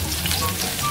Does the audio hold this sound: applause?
no